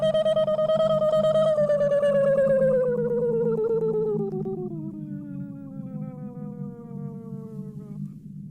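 Pitched, heavily processed voice effect in the style of the Twin Peaks Man From Another Place, a strained harmonic tone gliding steadily downward over a low droning buzz, loud and continuous with no other talk.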